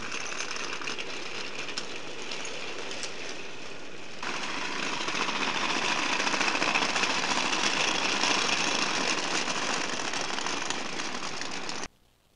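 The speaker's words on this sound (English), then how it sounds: "I thought you guys would like to see these cars being pulled by an engine." A model train engine pulling rolling stock cars, including a blue cattle car: a steady close motor whir and rolling rumble running continuously, rising a little partway through and stopping abruptly at the end.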